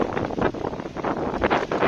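Strong wind in a rainstorm in Pursat province, Cambodia, roars steadily with gusty surges, a dense broadband rush like a storm blowing hard against the microphone.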